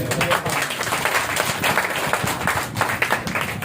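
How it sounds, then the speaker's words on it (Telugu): A church congregation claps together during a sermon, a dense burst of applause with sharp overlapping hand claps, close and loud throughout. "కొట్టు చప్పట్లు."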